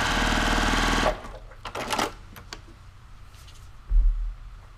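A sewing machine runs fast and loud, stitching a quilt block seam for about a second, then stops. Fabric handling and soft clicks follow, along with a brief low thump.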